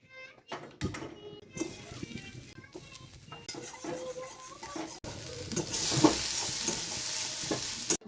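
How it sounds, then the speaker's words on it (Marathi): An egg frying in a pan at home gives off a steady close sizzle and hiss that swells louder toward the end, with occasional light stirring and scraping clicks. "आता मी एक फ्राय बनवतोय"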